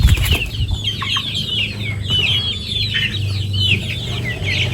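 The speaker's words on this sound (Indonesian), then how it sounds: "ayam kampung Elba" Elba breed native free-range village chickens cluck and chatter close by, many birds overlapping in a busy, continuous flock over a low background hum, with a few wing flaps and no speech.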